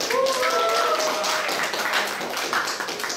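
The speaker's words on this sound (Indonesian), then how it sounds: "Tepuk tangan untuk semuanya" Applause in a classroom for all the students after a civics debate simulation round, a dense patter of hand claps with some voices mixed in, fairly close and steady for a few seconds.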